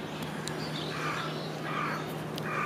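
A crow caws outdoors in the morning, calling faintly and at a distance several times in a row over a steady background hum.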